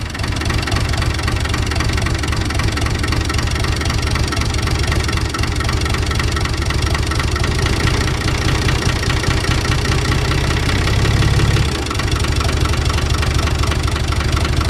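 A Long 460DT tractor diesel idles steadily after a cold start on a chilly day, a loud, close, continuous knocking rumble with an even rhythm and a brief surge near the end, no voices.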